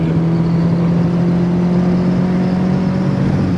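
A naturally aspirated Chevrolet Monza pulls away in second gear, its engine holding a steady droning hum with a strong low tone, close and loud, with no talking over it.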